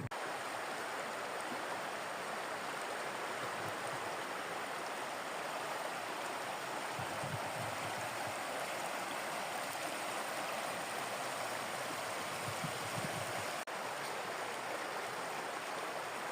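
A small river flows in a steady, close rush of babbling water, broad and constant throughout with slight swells, and no voices are heard.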